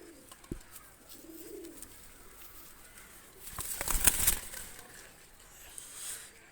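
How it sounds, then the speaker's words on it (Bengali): Two golden pigeons are released. A short burst of loud wing flapping rises and fades, with faint cooing before it and quiet afterward. "তো দুইটা কবুতর ছেড়ে দেখাচ্ছি আমি"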